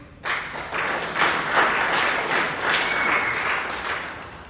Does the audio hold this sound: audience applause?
yes